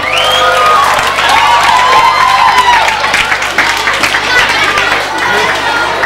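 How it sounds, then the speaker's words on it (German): Audience at a 2004 Abitur graduation ceremony at a German Gymnasium in Bad Kissingen claps and cheers for the candidates, loud and sustained throughout with whoops and crowd noise mixed in. "Einen herzlichen Applaus bitte nochmal für die Kandidaten."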